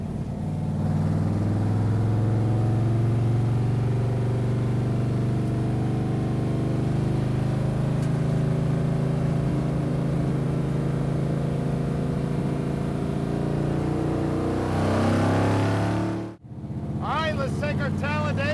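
A 1969 Ford Torino Talladega Boss 429 NASCAR car drones steadily from inside the cabin on a drive, its engine a constant, loud rumble before a brief cut and a return of the engine sound.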